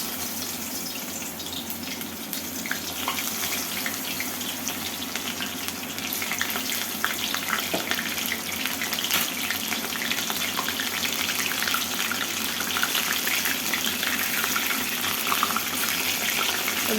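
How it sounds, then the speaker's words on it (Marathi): Soybean chunks deep-frying in hot oil for pakoras, a steady dense bubbling sizzle with a watery hiss that holds evenly close by the whole time, with no talking. "यामध्ये आपल्याला थोडी थोडी करून सोयाबीन वडी घालून हे तळून घ्यायचे आहे"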